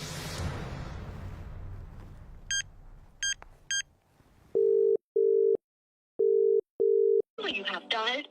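A few high chirps give way to a low, steady busy signal, four even beeps with short gaps, followed by a brief burst of noise.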